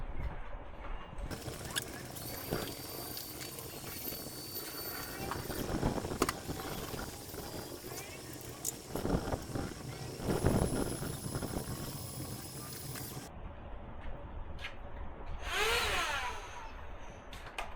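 A small handheld Temu vacuum cleaner motor whirs steadily with bursts of rising and falling pitch as it is moved around a car interior, a high whine running through most of it.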